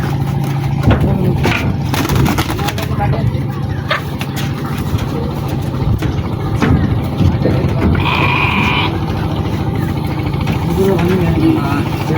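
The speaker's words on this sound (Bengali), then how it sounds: "গরু আর কয়েকটা ছাগল ভেড়া নিয়ে এসেছে।" Goats and sheep aboard an engine-powered boat arriving at a rainy-season village market bleat a few times over the low drone of the idling motor, while people talk close by.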